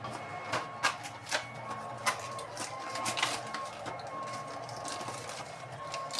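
A kitchen grinder crushes biscuits, making a steady mechanical whirring with repeated sharp rattling bursts as pieces are broken up, running continuously at close range.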